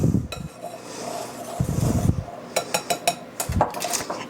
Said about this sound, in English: I'm going to take a whisk and just mix that together pretty good